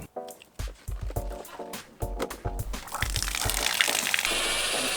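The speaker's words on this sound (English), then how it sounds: "we're simply going to turn the water off to the home and get it drained so I can get the old bib out" Water drains from household plumbing after the supply to the home is shut off, with intermittent gurgles, drips and splashes early on that give way to a steady rushing flow, close and moderately loud.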